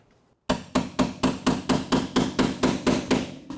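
Repeated hammer blows on a spot weld in sheet metal during panel removal, about ten sharp metallic strikes at a steady quick rhythm, close and loud, with no talk.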